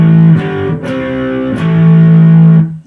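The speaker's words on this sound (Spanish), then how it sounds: "Esto ya es una distorsión, Boss también, clásica la distorsión de DS1." An electric guitar played through a Boss DS-1 distortion pedal rings out sustained, heavily saturated chords with a few sharp pick attacks, loud and close with no voices.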